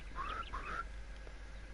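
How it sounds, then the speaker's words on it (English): A wattlebird calling in the Australian bush, two quick harsh rising squawks close together, moderately loud, followed by quiet outdoor ambience with no talk. "That was actually a wattle bird."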